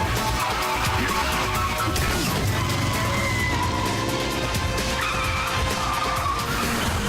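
A driverless car skids and crashes in Metal Gear Solid, with loud, continuous engine and tire-skid noise running throughout amid dense game sound.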